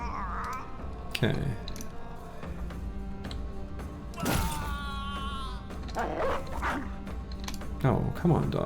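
Dogs in a medieval strategy video game bark and yip in short, scattered bursts amid thuds and crashes of combat, while a person talks over them.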